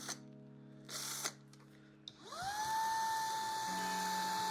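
A power drill bores holes into a Harley Benton guitar body, bit sizes stepped up toward a Floyd Rose bushing; two short whining bursts give way to a rising spin-up and a steady, close, high-pitched drilling whine.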